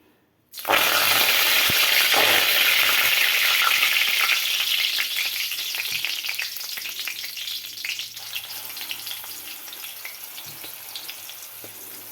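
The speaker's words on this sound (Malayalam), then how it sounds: "ഇനി നമുക്ക് അതിനെ ഒന്ന് വറുത്തെടുക്കാം" A spice powder mixture with salt sizzles and fries in a pan, bursting in loud at the start, then settling into a steady crackle that slowly fades, with occasional stirring scrapes and no talking.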